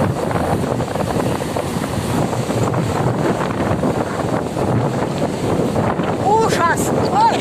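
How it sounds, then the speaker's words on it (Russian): Strong wind batters the microphone at a stormy seashore, a continuous loud roar blending with crashing sea waves throughout, with a faint distant voice near the end. "А это ужасные волны."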